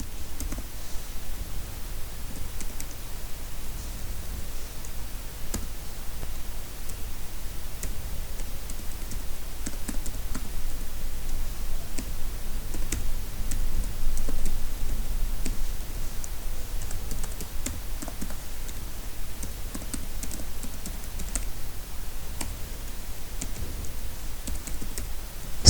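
Continuous computer keyboard typing while writing Python code, a dense run of soft close keystroke clicks lasting throughout at an even level, with no talking.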